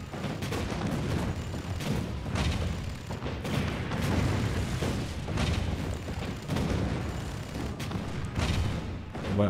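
Cannons in the video game Spore fire in repeated booming bursts, a dense, loud run of blasts and rumbles that keeps going with little pause and has no voices over it.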